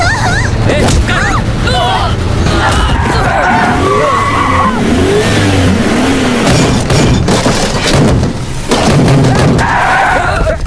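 A car in a movie scene revving hard and tearing away with tire skids and thumps, loud and continuous for about ten seconds while voices shout over it.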